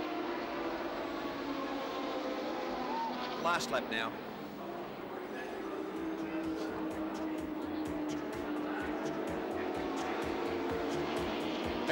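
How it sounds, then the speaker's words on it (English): Glenn Seaton drives Fury's touring race car at Sandown during a 1986 ATCC round, its engine a sustained, steady drone running under continuous commentator talk. "Into the main straight, Fury's car with Glenn Seaton driving it still sounds sweet as a nut."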